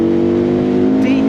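Benda LFC700 motorcycle with a 476cc engine revving steadily, a loud, close, sustained low engine drone that holds through the whole moment with a slight lift near the end.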